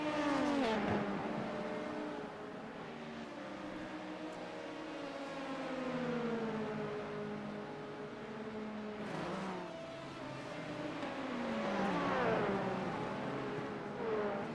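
LMP2 prototype race cars battle at Spa, their engines wailing and shifting pitch as they accelerate and pass, with a GT4 car nearby, heard at moderate distance in a continuous rising and falling roar.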